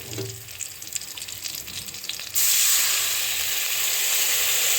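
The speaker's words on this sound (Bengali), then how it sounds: "একটু ভাজা ভাজা হলে এবার অল্প জল দিয়ে দেব" Water poured into a pan of frying pabda fish with salt and turmeric sets off a sudden loud, steady sizzle and hiss halfway through, following quieter frying crackle.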